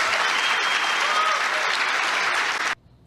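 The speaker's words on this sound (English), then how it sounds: "He had a number of applause lines like that today, and they all ended the same, with basically the whole room erupting in support" A room full of people at a political speech breaks into loud, sustained applause, a dense, close wall of clapping that holds steady for nearly three seconds before stopping abruptly.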